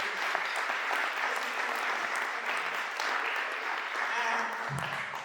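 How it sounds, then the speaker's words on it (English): An audience at a scholarship foundation event claps in a steady, full round of applause that holds at an even loudness from start to finish, with a voice faintly mixed in. "I would like a round of applause, please, for Michael Tonge, Director of Global."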